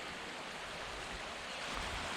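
A creek flowing over bedrock along a hiking trail, a dense, steady rushing wash of water heard close and loud, continuous without a break.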